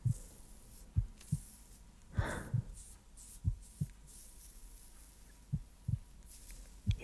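Close binaural heartbeat in an ASMR cuddle and massage roleplay: soft, steady low thumps about once a second, some in double beats, with a gentle breath partway through and no talking.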